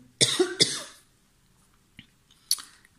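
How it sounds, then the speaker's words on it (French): A woman gives a short cough, a couple of quick close bursts, then a faint throat sound and a small catch a moment later, in a quiet room. "Désolée pour cette petite toux, je me suis un peu étranglée"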